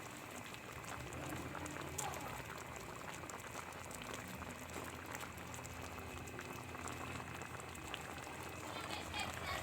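Catfish stew in coconut milk bubbles in a covered pot, a soft, steady boiling gurgle with small popping bubbles, faint and continuous.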